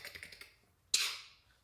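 Quick keystrokes on a computer keyboard patter close by, then fade, before one louder clacking burst that trails off; no talking.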